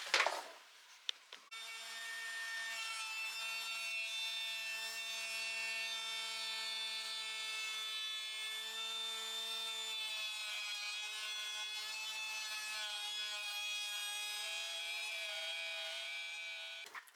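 A hole saw cuts into a wooden piece, giving a steady, faint whining drone that holds evenly for about fifteen seconds after a brief clatter at the start.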